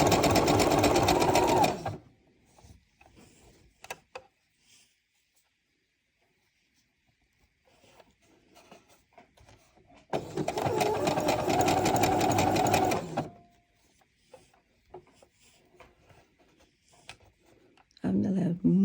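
A sewing machine stitches a turned-under dress hem in two loud, steady bursts separated by a quiet pause with faint handling sounds, then starts a third burst at the end.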